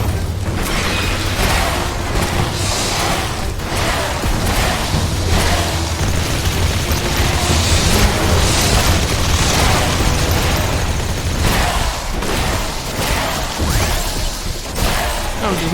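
Rockets fired in the sci-fi base-building game The Riftbreaker burst in a rapid, loud string of booms and pops, continuous and heavy, with mechanical clatter layered underneath and no talking.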